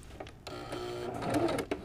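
A sewing machine stitching a narrow rolled hem, a short burst of quick mechanical whirring and rhythmic clicking from the needle, close and moderately loud, with no speech.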